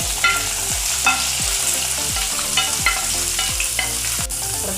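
Mustard seeds frying in coconut oil for beef fry, a loud close sizzle with rapid crackling pops over a steady tick of repeated stirring strokes.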